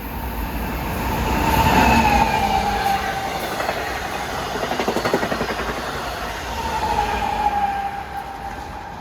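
An LIRR dual-mode train on the 5:05 Oyster Bay to Penn run passes Forest Hills during the morning rush, a sustained rumbling roar with rhythmic clatter of wheels, swelling as it goes by and staying loud throughout.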